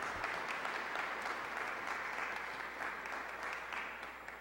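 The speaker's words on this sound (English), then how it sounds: "Can we give Brother Daniel another round of applause, please?" A congregation at a religious ministry gathering gives a steady round of applause, a dense wash of clapping from many hands, fairly faint and distant, tapering slightly at the end.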